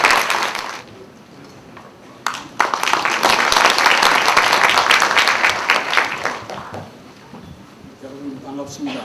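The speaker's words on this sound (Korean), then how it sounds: "큰 박수 부탁드립니다." An audience at a Korean science and technology policy seminar applauds to welcome a speaker, clapping swelling after a brief lull, holding steady, then dying away, with a voice speaking over the end.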